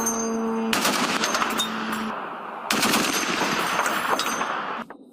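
Machine gun fire aimed at Shahed drones at low altitude during a night attack: two long, loud sustained bursts of rapid automatic shots, near, separated by a brief pause and ending abruptly.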